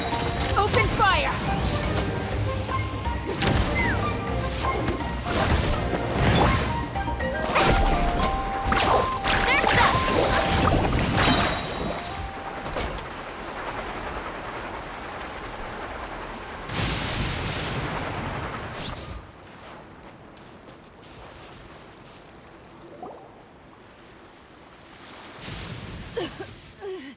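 Cannon fire in Genshin Impact rings out in a rapid series of loud booming shots with crashing impacts, thinning into a lull and ending with a few scattered blasts, with some talk in between.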